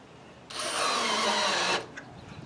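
A power drill drives a quarter-inch hex-head lag bolt with pointed end, a single whirring burst of just over a second, close and loud, then stops, with no talk.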